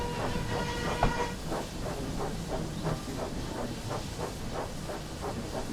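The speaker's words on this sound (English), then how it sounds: "they too can drive Thomas the Tank Engine, devious diesel, on the West Somerset Railway" Thomas the Tank Engine steam locomotive on the West Somerset Railway in the Train Sim World 5 game, a steady hiss with a regular, even rhythm of clicking beats running continuously at moderate level.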